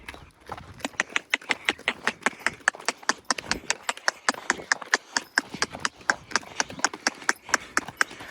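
A mare's hooves clip-clop steadily as she is led home from the farm field. The close, evenly spaced walking beats go on continuously and are clearly heard.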